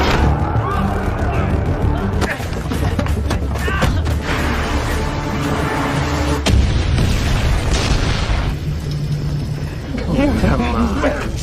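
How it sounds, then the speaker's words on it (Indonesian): A film's loud bomb blast, set off to take out a gang's men, booms and rumbles continuously with heavy low-end debris and clatter over about eleven seconds. "Bai-an meledakkan bom yang ia pasang untuk menghabisi anak buah Long Tai"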